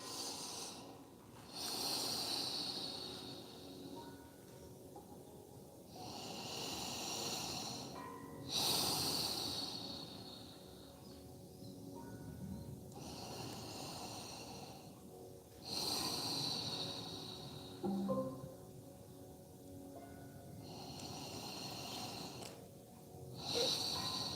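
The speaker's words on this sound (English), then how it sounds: "breathing through your nose." Slow, deep breathing through the nose during a yoga pose, close and audible, with about five long inhale-exhale cycles spaced several seconds apart and a faint snorting edge, no speech.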